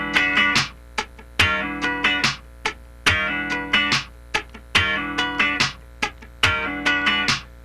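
A funk guitar slide pattern is strummed with the right hand scratching continuously through every sixteenth. Dense, driving chord strums sit between sharper accented hits, loud and close with no talking.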